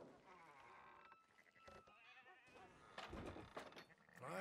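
Several sheep bleat in short wavering calls in Red Dead Redemption 2 video game, fairly close, with a brief thud partway through and some faint background noise.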